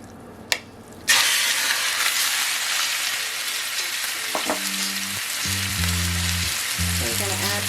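Turkey meat hitting hot olive oil in a skillet, a sharp impact followed by loud steady sizzling, with stirring and scraping sounds toward the end.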